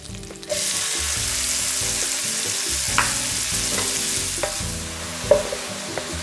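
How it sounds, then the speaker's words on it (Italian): Chopped onion sizzles and crackles loudly in a hot pan of oil, a continuous frying hiss with a few sharper pops and the scrape of stirring. "Adesso sentiamo meno quello sfregolio. Lo sfregolio si è ridotto. È giunto il momento di risentirlo con la cipolla."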